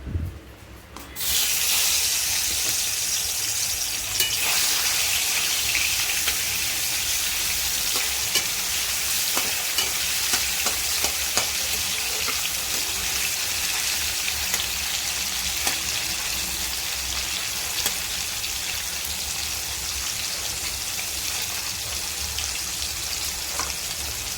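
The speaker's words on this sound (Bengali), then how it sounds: "তেলটা গরম হয়ে গেছে এর ভেতরে আবার চিংড়ি মাছটা দিয়ে দেবো" Prawns hit hot oil in a pan for a Bengali prawn chutney, setting off a loud, continuous close sizzle with constant popping crackles that stays dense for the whole stretch, with no one talking.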